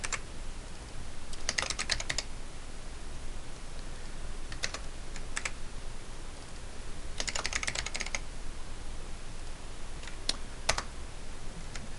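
Keys clatter in short bursts of quick typing on a computer keyboard, separated by pauses over a steady low background hiss.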